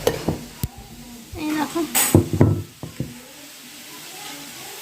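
Okra fries in a pan in a home kitchen, a soft sizzle broken by a spatula scraping and knocking against the metal, with a few short clatters while a person talks nearby.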